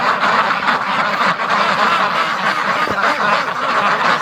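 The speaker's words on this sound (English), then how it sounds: "The ducks are dirty." A flock of ducks in a pen during a snow storm quack steadily and loudly, their overlapping calls forming a dense, continuous chorus close by.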